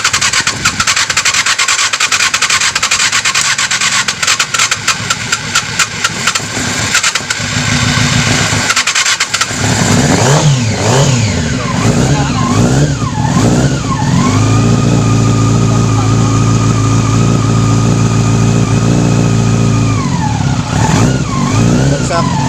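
A Yamaha R6 motorcycle with a hard-starting problem cranks, catches and fires up, then revs repeatedly with loud rising and falling engine sweeps before settling into a steady, throbbing idle.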